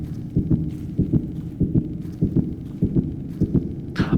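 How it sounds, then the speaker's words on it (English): A rhythmic heartbeat in the video game LiDAR, steady doubled low thumps repeating about every half second, loud and close with no talk over it. "So this is the heartbeat we've been hearing throughout the game."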